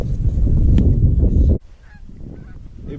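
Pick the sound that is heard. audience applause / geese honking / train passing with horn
geese honking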